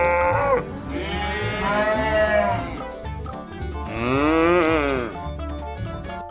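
Two loud, drawn-out cow moos rise and fall in pitch, each lasting about two seconds with a short gap between them, heard close and without speech.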